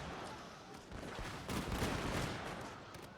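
Matchlock gunpowder volley fire in the video game Total War Shogun 2, dense overlapping crackling gunshots rolling continuously across the battlefield, loud and unbroken with no clear gaps.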